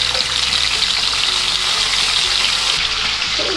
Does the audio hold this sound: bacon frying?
yes